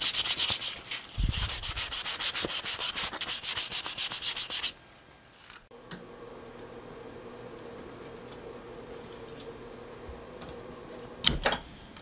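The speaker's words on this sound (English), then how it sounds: "I've got this all sanded down" Hand sanding of a wooden lipless crankbait lure body, a rapid rhythmic scratchy rubbing of steady back-and-forth strokes for several seconds, close up, before it stops and a quiet background hum remains.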